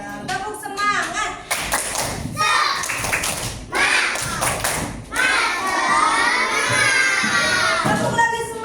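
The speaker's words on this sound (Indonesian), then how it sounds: "Tepuk semangat." Schoolchildren in an Indonesian classroom do the rhythmic 'tepuk semangat' spirit clap, bursts of group clapping mixed with lively children's shouting and a teacher's voice, fairly close and loud.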